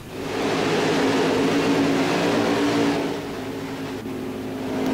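NASCAR Xfinity Series stock cars start a race in NASCAR Heat 5. The engines form a loud, steady drone that dips briefly and then swells again as the field gets under way.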